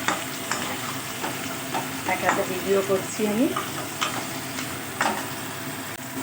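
Kochu shak (taro greens) with a hilsa fish head fries in a wok, giving a steady sizzle broken by repeated scraping, stirring strokes close by, while someone speaks briefly.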